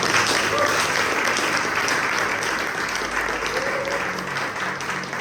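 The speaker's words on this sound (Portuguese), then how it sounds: "Aplauda o Senhor." A church congregation applauds in worship, a dense, steady wash of clapping from many hands that holds loud and even throughout, with faint voices mixed in beneath it.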